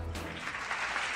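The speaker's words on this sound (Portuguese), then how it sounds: "Cadê as palmas do tenente Janderson e da equipe?" Audience applauding Lieutenant Janderson and his team, a dense, steady wash of clapping that holds throughout the short stretch, fairly close and without any talk over it.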